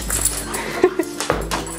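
Dogs whimper in short, soft whines inside a parked car before a trip to the dog park, a few brief yips against a quiet cabin hum.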